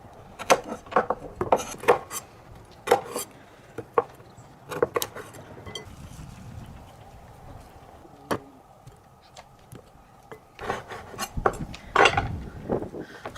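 Raw chicken feet are chopped with a cleaver on a wooden board. Sharp, irregular thwacks land in quick bunches, with softer rubbing and shuffling between strikes and a brief pause before a final flurry.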